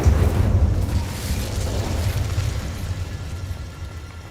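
The Incendio fire spell going off in the video game Hogwarts Legacy: a dense, rumbling whoosh of flame with a heavy low-end boom at the start that slowly fades over a few seconds.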